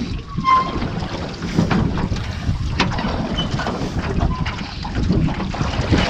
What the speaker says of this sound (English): Wind is starting to pick up, getting a little choppy.